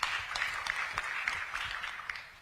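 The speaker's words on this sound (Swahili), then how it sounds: "Makofi tafadhali." Crowd applause at a political rally in Nyeri, a steady wash of clapping from a large gathering lasting the whole moment, moderately loud with no one talking over it.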